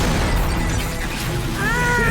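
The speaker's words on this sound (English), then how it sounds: "So many explosions." Explosions rumble without a break in the action game Devil May Cry, a loud, dense roar of booms and crashes that keeps going throughout, with a faint tonal whine near the end.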